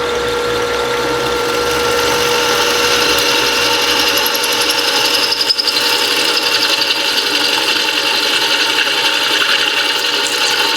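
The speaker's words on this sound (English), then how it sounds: "Phase converter, drill, power down feed, and away we go." A drill press running off a phase converter with power down feed grinds steadily through metal using Hog bits, a loud continuous whirring and rasping drone with high-pitched tones riding on top.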